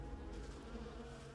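Bees buzz steadily around hives in a video game, a dense continuous drone that fills the moment without any speech.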